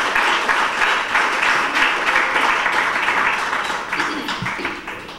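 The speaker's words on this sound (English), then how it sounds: "I think we should give WELL a round of applause for this" Applause from an audience at an entrepreneurs' retreat, a continuous, fairly loud clatter of clapping that gradually softens, with some voices mixed in underneath.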